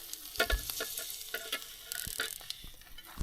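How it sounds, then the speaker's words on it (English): Eggs fry in a pan on a camp stove, with a steady crackling sizzle and scattered sharp pops, close and without voices. "Just gonna season the steak, some avo, and fry some eggs."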